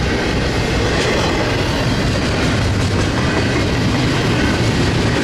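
An eastbound double-stack freight train rolls past at Cajon Summit, a loud, continuous close rumble of wheels and cars with rhythmic clatter throughout.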